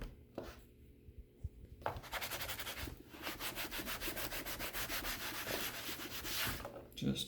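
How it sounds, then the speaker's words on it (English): A small scraper rubs steadily across the plastic casing of an HP 255 G4 laptop, lifting stuck residue. It gives a continuous, gritty, rhythmic scraping for several seconds, close and fairly loud, after a few brief scrapes at the start. "Let's get our little scraper here, see if I can get that off without damaging."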